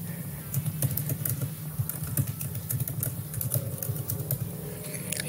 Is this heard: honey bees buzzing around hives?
no